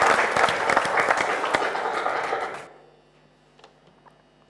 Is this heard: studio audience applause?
yes